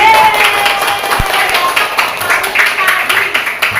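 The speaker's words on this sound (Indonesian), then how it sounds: "Tepuk tangan untuk Dwi." Children in a classroom clap their hands together, a lively burst of uneven clapping with speech mixed in alongside.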